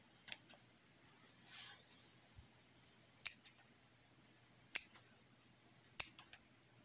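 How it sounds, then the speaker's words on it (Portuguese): Scissors make about four sharp, separate snips while trimming the tips of braided portulaca (moss rose) stems, each click crisp and close against a quiet room. "Agora a gente vai pegar a tesoura e vai cortar essas pontinhas aqui"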